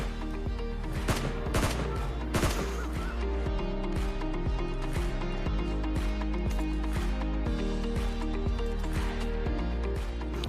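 Rapid M249 machine-gun fire in a battle-royale shooter video game, with loud, close bursts of shots crackling in quick succession over constant game background sound.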